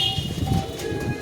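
Giribaz high-flying pigeons in a loft coo in low, repeated murmurs, close and moderately loud, with faint chirps and background noise.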